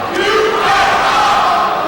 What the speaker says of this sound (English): And here goes the crowd again.